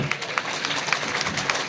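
A congregation at an outdoor Christian convention in a church courtyard claps steadily as a dense, continuous wash of hand claps from a large crowd, with occasional sharper claps standing out.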